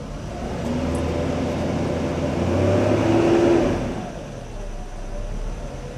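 Mercedes coupe engine, a restored barn find, running and revving up, its note swelling to a peak midway then settling back to a steady idle, close and fairly loud.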